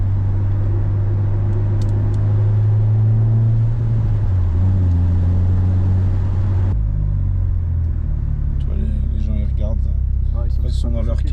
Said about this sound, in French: Là, on va la faire à la Paul Walker. Il manque juste la musique. Avec le petit départ en drift comme ça là.